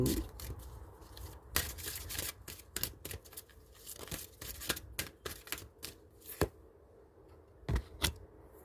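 A deck of oracle cards being shuffled and drawn, with close, papery riffles and sharp card snaps arriving in irregular bursts and a few louder slaps, without speech.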